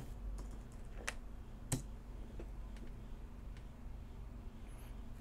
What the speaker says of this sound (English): type in the password you just created